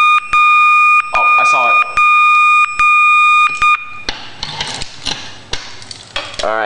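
A fire alarm system under test sounds in repeated loud electronic tone pulses with a steady rhythm for about four seconds, then stops as a person speaks briefly amid handling noise.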